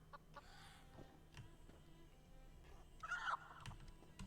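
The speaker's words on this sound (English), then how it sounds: "we have chickens pecking at chicken meal here" Chickens in Elder Scrolls Online cluck and peck at feed in a housing area, a few short clucks rising to a louder burst near the end over a quiet ambient game backdrop.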